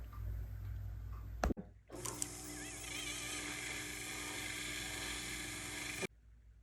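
A jeweler's small rotary tool cuts stone seats into a pear-shaped ring head, starting after a brief clack and a short pause, then giving a steady thin whir for about four seconds before stopping abruptly, quiet and close.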